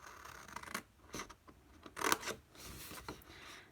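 Scissors snip into the corner of a piece of card for a flip-top gift box: a few quiet, close cuts with soft paper rustles between them.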